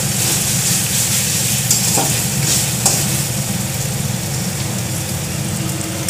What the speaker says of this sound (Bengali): টমেটো সস দিয়ে নেড়ে নেব